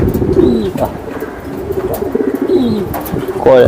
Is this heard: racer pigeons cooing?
yes